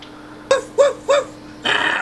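A dog gives three short whimpering yips in quick succession at close range, followed by a brief rougher burst, with a faint steady hum behind.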